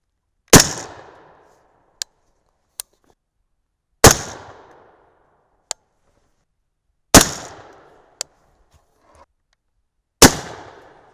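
Four loud, sharp rifle shots of .223 Remington 75-grain Speer Gold Dot rounds fired into test blocks, spaced a few seconds apart, each with a short decaying tail and faint clicks between.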